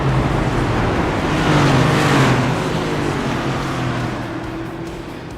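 Race cars circling under caution behind the pace car at Charlotte Motor Speedway, a loud steady roar of engines swelling past at close range before slowly fading.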